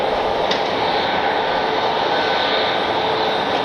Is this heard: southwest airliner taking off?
yes